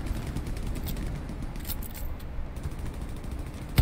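Suppressing gunfire in the World War II shooter Hell Let Loose, a steady rumble of distant shots and battle noise under a dense low-end wash, with faint sharp cracks scattered throughout and one louder hit at the very end.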